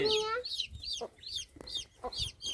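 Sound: hen and chicks clucking

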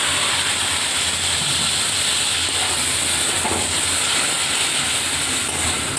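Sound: water added to frying chicken masala, hissing

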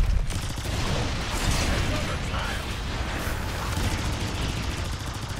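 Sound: gunfire from the video game Evolve Stage 2

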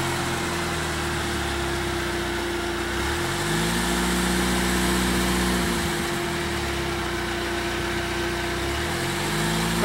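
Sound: off-road vehicle engine started and idling, throttle raised

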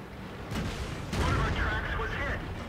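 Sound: tank cannon shot in the video game World of Tanks

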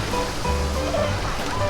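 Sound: sea waves at Nang Ram beach

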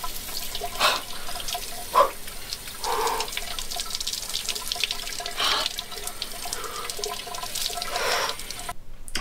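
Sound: ice-cold shower water running after sauna

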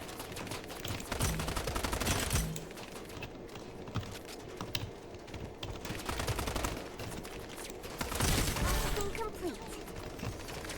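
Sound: gunfire in a video game

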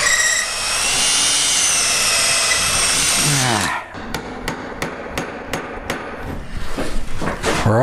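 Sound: drilling through slotted post with an auger bit

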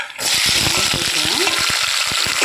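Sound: onions and tomatoes sautéing in oil with mustard seeds

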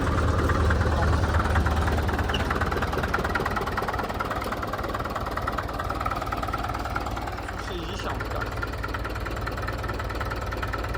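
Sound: Belarus MTZ-50 tractor diesel engine idling cold

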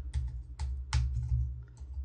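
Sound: typing on a computer keyboard

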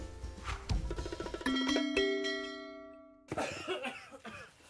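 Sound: child coughing

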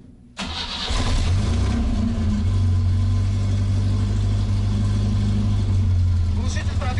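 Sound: Moskvich 412 car engine running with exhaust

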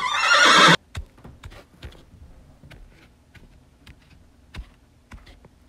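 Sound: horse whinnying

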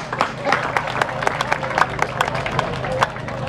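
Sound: audience applause at village anniversary celebration

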